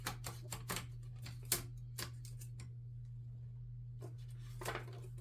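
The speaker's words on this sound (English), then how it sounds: "Paper feeds pretty easily in general." Paper being fed into an Underwood No. 5 desktop typewriter: a quick run of sharp mechanical clicks and ratchet ticks, a pause, then a few more clicks, over a constant low electrical hum.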